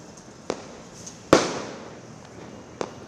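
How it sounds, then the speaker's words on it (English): Diwali fireworks burst in a few separate sharp bangs, one loud crack with a trailing crackle among smaller pops, heard at a moderate distance without talk. "Fireworks adorn the sky during Diwali, the auspicious festival of lights."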